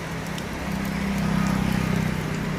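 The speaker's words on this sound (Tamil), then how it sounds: "இன்றைக்கி பாருங்கள் மழை" Steady rain falls at a Murugan temple on a Tuesday, a dense continuous patter and hiss of drops on surfaces, fairly loud and unbroken throughout.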